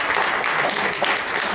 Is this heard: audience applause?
yes